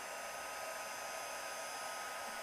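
Heat gun melting white embossing powder on a punched tree card, blowing a steady, even hiss-like whir at close range with no other sounds.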